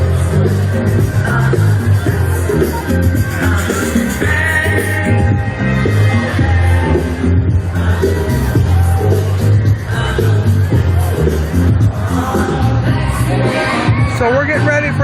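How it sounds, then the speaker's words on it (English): A large street protest crowd at a George Floyd and Black Lives Matter demonstration shouts and chants, a loud, dense, unbroken roar of many voices. "So we got a crowd here."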